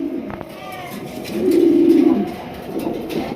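Large fancy Giraffe pigeons kept for sale coo close by, one loud, sustained throaty coo rising midway over a quieter background of other birds.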